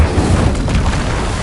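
A fire-casting Incendio spell in the video game Hogwarts Legacy erupts as a short, loud, booming burst with a roaring low-end rumble.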